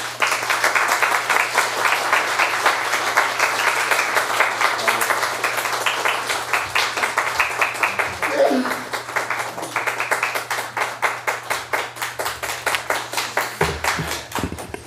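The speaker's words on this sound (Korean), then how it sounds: "우리 목사님 나오실 때 박수로 환영하겠습니다" A church congregation at a Sunday morning service claps to welcome the pastor, a long, steady wave of clapping with a rhythmic pulse that thins toward the end, a low hum beneath.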